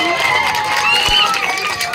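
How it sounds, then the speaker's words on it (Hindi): Applause and cheering from a crowd at a cricket awards ceremony fill the clip as a steady, dense wash of clapping, with voices mixed in throughout. "एक जोरदार ताली सुमित के लिए।"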